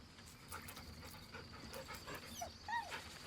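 A dog in the video game Baldur's Gate 3 gives soft whimpers and yips over low ambient game sound, quiet and close, ending in a brief bump.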